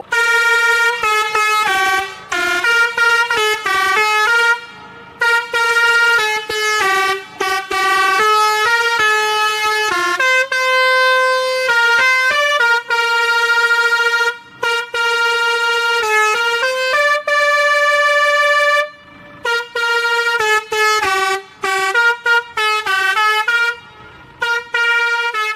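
Loud musical air horn on a Keramat Jati bus playing a long, fast melody of stepped tones in repeated bursts with short gaps, close and dominant throughout with no talk.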